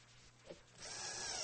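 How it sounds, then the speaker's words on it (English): A power drill drives screws into a router table miter track, a short faint thump followed by a rising steady whir of the drill motor close by. "A few screws secure the miter track in place."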